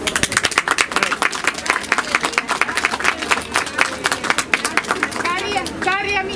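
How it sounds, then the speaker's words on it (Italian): A crowd at a solidarity rally for the Ukrainian people claps in sharp, rhythmic bursts, close and lively, with voices and chatter rising over the clapping near the end. "Quindi un applauso al popolo ucraino"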